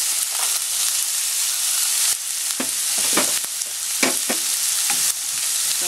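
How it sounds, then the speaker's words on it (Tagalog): Carrots frying in a pan for lasagna pasta, a steady close sizzle broken by several sharper scraping stirs, loud throughout with no talking. "Medyo lutuin lang natin ng konti yung carrot"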